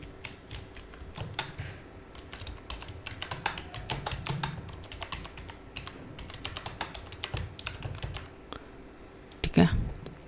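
A line of text typed on a computer keyboard, with brisk, irregular key clicks at close range running steadily for about ten seconds and a louder burst near the end.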